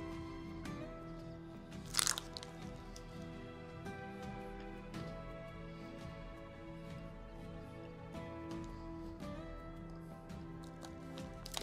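Chewing crunchy Ritter Sport chocolate up close: repeated soft crunches and crackles in an irregular rhythm, with one louder bite near the start, quiet and intimate.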